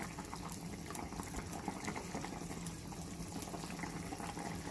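Broth pours into a pan of fried potatoes seasoned with whole cumin, cinnamon and bay leaf, a steady, faint liquid rush and bubbling that runs evenly without pause.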